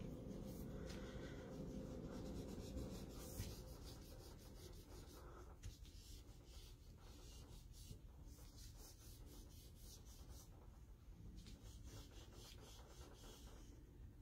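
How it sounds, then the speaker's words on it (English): Close, steady rubbing of an eraser over pencil lines on paper, a continuous dry scrubbing with small strokes and no pauses, with no voices. "We can go ahead and erase our lines."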